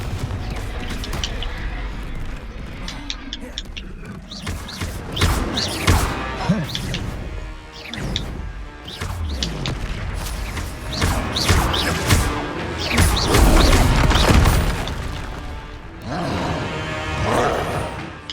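Confringo fire spells blast repeatedly during a fight in a goblin stronghold in the Hogwarts Legacy video game, with loud crashing booms and roaring bursts that follow one another almost continuously.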